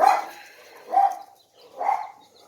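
Dogs bark outdoors in three separate bursts spaced about a second apart, fairly close and loud, with no talking over them.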